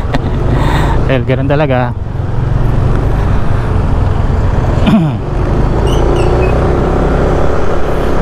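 Road traffic on a day with storm weather, a steady roar of cars and larger vehicles passing close by, with a brief horn-like tone and a person talking over it.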